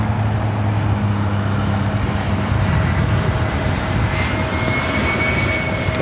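An airliner rolls down runway 25 Left for takeoff at LAX, its engines a loud, steady roar with low droning tones that holds level for the whole stretch.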